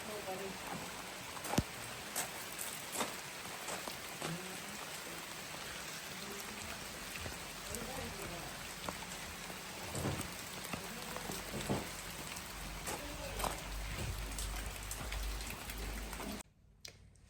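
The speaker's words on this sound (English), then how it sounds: "Look at the rain." Steady rain pours down, a dense hiss of drops hitting surfaces with occasional louder splats, continuing unbroken before cutting off abruptly near the end.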